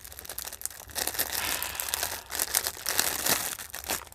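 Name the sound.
packaging crinkling during jewelry unboxing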